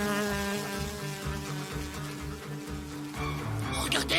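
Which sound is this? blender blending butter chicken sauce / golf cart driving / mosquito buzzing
mosquito buzzing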